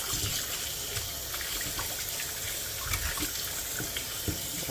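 Tap water runs steadily into a sink while raw chicken is rinsed under it, a constant close splashing gush with small irregular spatters.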